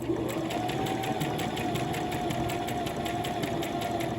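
A serger runs steadily and close, sewing a stretch stitch seam on a jogger sleeve with a fast, even mechanical whir and rhythmic ticking throughout, no voices present.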